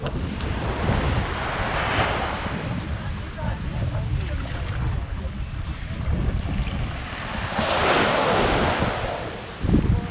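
Atlantic surf breaking on a beach in Sao Vicente, Cape Verde, a steady wash of waves with wind buffeting the microphone and a louder surge near the end.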